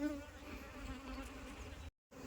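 Apis cerana honeybees give off a steady, close buzzing hum while an aggressive colony is being transferred, with the drone running continuously apart from a brief cut near the end.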